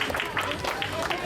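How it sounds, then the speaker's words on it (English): Brief applause from an awards-day audience after a martial-arts board-break attempt, a short burst of scattered clapping from a modest crowd. "Round of applause."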